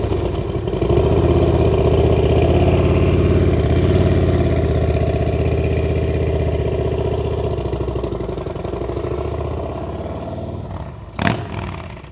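A motorcycle fitted with a TAB Performance Redline 2-into-1 exhaust idles with a throaty, pulsing rumble, close and loud for about eleven seconds, ending with a sharp click.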